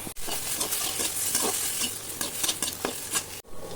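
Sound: onions frying in pan

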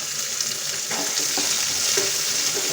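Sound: chopped onion frying in oil with garlic and ginger

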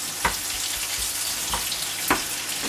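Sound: potatoes with mushrooms frying in a pan

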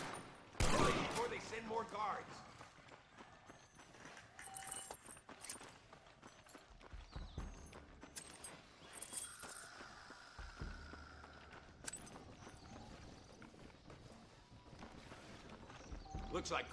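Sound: horses' hooves in the video game Red Dead Redemption

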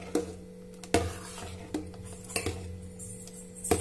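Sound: stirring juice with lemon juice and water in a vessel

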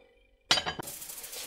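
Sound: lid placed on frying pan

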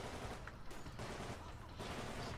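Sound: gunfire in video game Titanfall

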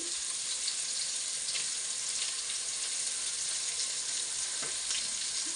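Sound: stirring fish sizzling in a frying pan

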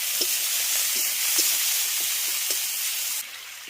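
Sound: sautéing cabbage and soybean curry with ginger, cumin, chili paste

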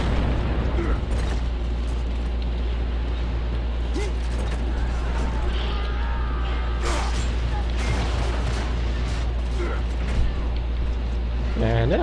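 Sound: frag grenade explosion in video game Gears of War: Judgment

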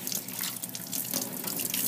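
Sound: rinsing a sponge under running tap water

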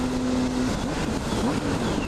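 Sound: motorcycle engine during a wheelie

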